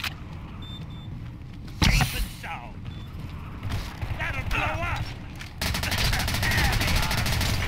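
Gunfire in the PC shooter Ballistic Overkill comes in sharp bursts, with a loud shot burst near the start and heavy rapid fire toward the end, alongside mechanical clicks and creaks, while someone talks between the shots.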